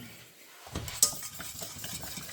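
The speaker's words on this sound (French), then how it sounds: "on continue à fouetter" A whisk stirs béchamel sauce with salt in a pot on an induction hob, giving soft scraping strokes and one sharp clink of metal against the pan, close and fairly quiet.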